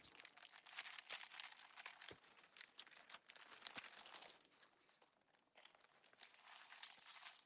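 Paper for washi tape crafts being handled and crinkled close by, a steady run of crisp rustles and crackles with a brief quieter pause before the crinkling resumes.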